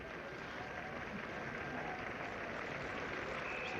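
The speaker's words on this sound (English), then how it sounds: "Applause for the West Indies 100." Steady ripple of crowd applause at a 1973 England v West Indies cricket Test match, greeting the West Indies reaching 100; faint, distant and even throughout, with no voices.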